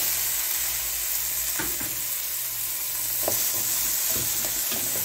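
Red, yellow and green bell peppers and tomato sizzle in a pan over browned garlic, a steady close frying hiss with a few stirring clicks and scrapes, no voices.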